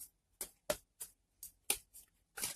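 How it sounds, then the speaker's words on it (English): Tarot cards are shuffled by hand in a quiet room, giving about eight soft, evenly spaced riffling bursts, faint and close, with no speech. "Sorry if it takes a long time to shuffle this card"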